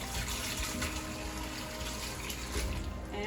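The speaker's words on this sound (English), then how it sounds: "Now I'm going to drain that water out." Hot salt brine being poured off cherries that have soaked for a day, a steady close rushing of draining water with no pause and no talk.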